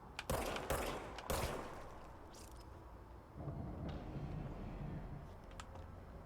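Gunfire in the video game Control on PC: a few sharp, loud bursts of shots in the first second and a half, then a quieter stretch of game ambience and faint scattered noises.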